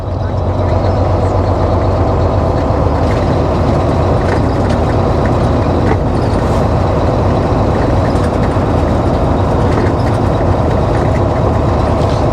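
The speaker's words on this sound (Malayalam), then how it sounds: "ഇവിടുത്തെ ഒരു ട്രെയിനാണ് പോകുന്നുണ്ടോ, ഗോ ട്രെയിൻ എന്ന് പറയും" A green GO Transit double-decker commuter train rolls past, a steady, loud, continuous rumble of wheels and engine that holds unbroken throughout.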